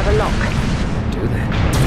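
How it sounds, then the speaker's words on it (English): A flechette missile launches from a ship in the space combat game Dreadnought. A loud, dense roar with a boom sustains throughout, and a voice speaks over it. "Flechette launched, Captain."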